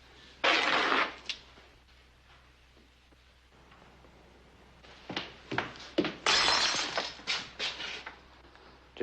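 Glass shatters in a Western saloon, a sharp crash followed by tinkling fragments, then a burst of several more breaking and clinking impacts a few seconds later, loud against a quiet room.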